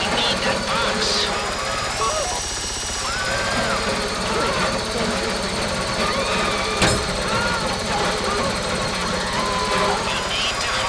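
Heist drill grinding continuously in GTA Online, a loud rattling mechanical whine sustained throughout, with voices talking over it.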